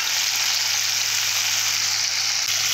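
Vegetables sizzle steadily in a hot pan after being salted, a dense, constant frying hiss with a faint low hum beneath and no voices.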